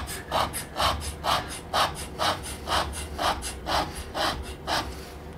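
A hand scraper is pushed across a flat metal surface, taking chips in a regular series of about eleven short rasping strokes, each a close, crisp scrape with a quiet pause between, and no talk.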